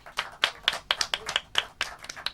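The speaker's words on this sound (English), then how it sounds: "Un grand applaudissement pour Philippe." A small studio audience claps for Philippe, a short burst of scattered, uneven hand claps at moderate volume, with no voices.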